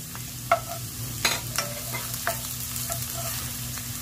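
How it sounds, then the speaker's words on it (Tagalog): Garlic and onion sautéing in a pan for pancit canton: a soft, steady sizzle with a few sharp utensil clicks and scrapes against the pan, alongside a low background hum. "Then magigisa na tayo. So unahin natin yung ating bawang."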